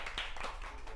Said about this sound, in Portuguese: Muito bem, palmas para a equipe 2.